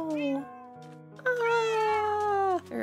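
Cartoonish cats in a video game meow over and over, high, bending calls in bursts, loud and close, one long drawn-out mew near the end.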